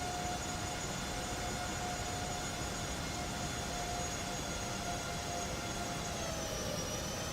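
Steady jet engine roar of a Boeing 737 MAX airliner landing in Microsoft Flight Simulator, heard from an outside view: a continuous broadband rumble with a sustained high whine, even and unbroken throughout, with no voices.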